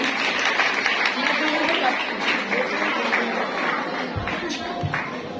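Audience applause fills a parish hall during a Women's Day celebration, a steady dense wash of clapping with some crowd voices mixed in throughout.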